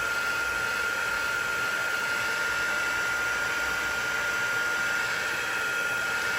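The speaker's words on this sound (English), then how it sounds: "And then I'm just going to hit this again with the heat tool." A heat tool blows over a watercolor background to dry it, producing a steady, loud, continuous whirring hiss with a fixed high whine that runs unbroken throughout.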